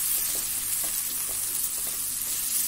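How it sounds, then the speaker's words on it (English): Ingredients for a Goan dry prawn curry with dried mango fry in a pan over a lowered flame, giving a steady, close, continuous sizzle and hiss with faint soft stirring scrapes and no talking. "I'm going to lower the flame and I'm going to fry this."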